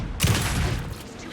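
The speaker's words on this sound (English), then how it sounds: "Anderson, pin him down with gunfire for me to get the light on him." A burst of gunfire in the Alan Wake 2 video game, with a sharp blast followed by a dense rattling volley and a fading tail.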